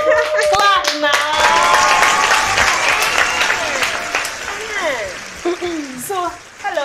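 Studio audience on a dating show clapping and applauding, a dense burst of hand claps that swells then thins out toward the end, with voices and cheering mixed in.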